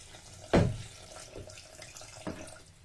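Water poured into a Thermomix bowl while making tomato soup: one loud splashing gush, then two smaller, softer pours, close by, with no talking.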